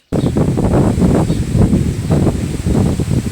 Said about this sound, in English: I get the wind.